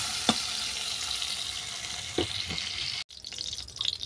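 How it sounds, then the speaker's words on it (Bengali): Ridge gourd and cucumber frying in oil for a village-style mixed-vegetable fish curry, a steady close sizzle with a few soft stirring knocks and a brief dropout near the end, no voices. "ঝিঙে আর শসা খুব কড়া করে ভাজবো না"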